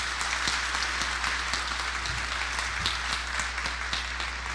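A crowd applauds at the official opening of the Bella Festa 2023 festival in Fagundes Varela, dense sustained clapping filling the space evenly with a low electrical hum beneath and no talking over it.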